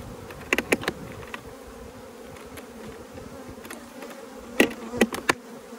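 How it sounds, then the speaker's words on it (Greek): Honeybees buzzing steadily around open, productive beehives with divider boards in April, a close continuous hum with several sharper, louder passes as bees fly near, and no talk. "Βλέπουμε μέλισσα, έτσι."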